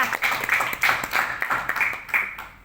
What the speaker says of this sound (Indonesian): Tepuk tangan untuk Omega kita